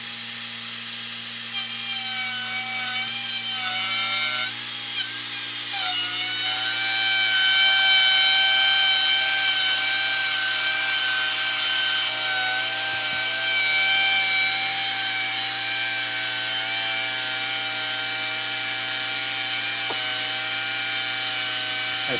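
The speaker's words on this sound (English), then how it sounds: "now I'll route it with the finished router" A handheld router trims the edge of a round 36-inch Japanese-style wooden low table, giving a steady, loud whine with a sustained tonal hum that holds constant and close throughout, sped up to about twice normal speed.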